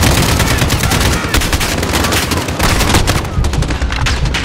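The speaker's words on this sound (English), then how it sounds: "I'm getting shot from everywhere" Loud, relentless gunfire from several directions in a Call of Duty: Modern Warfare multiplayer match on PC, with rapid automatic bursts and close shots layered into a dense, unbroken barrage.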